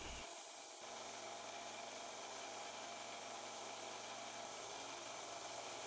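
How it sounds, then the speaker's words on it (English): A 1 inch belt sander grinds defects off stainless steel in a steady, continuous abrasive hiss that starts abruptly and runs at even loudness, close and without talk. "Stainless steel is a tough material to cut with hand shears, but defects can be removed with the belt sander."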